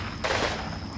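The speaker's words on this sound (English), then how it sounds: "I heard rifle fire." Rifle fire in the World War II game Combat Mission: Fire and Rubble, set in Berlin 1945, comes as a brief, muffled burst of shots over a low ambient rumble.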